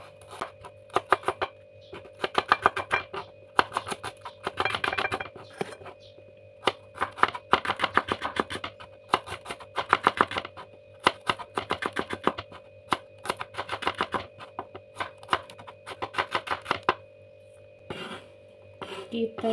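A knife chopping shallots on a cutting board in quick bursts of sharp, close taps that repeat over and over, with a steady hum beneath and a voice talking at times.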